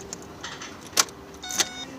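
Car ignition keys in a vehicle being turned off after throttle body service, with short metallic key jangles and clicks, one sharper rattle midway and another near the end, close and fairly quiet.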